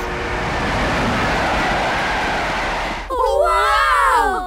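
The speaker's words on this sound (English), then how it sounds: "Okay, we have to get on the back of that train." Cartoon train rumbling along steadily with a dense, continuous roar that cuts off abruptly and gives way to bright, squeaky animated character voices.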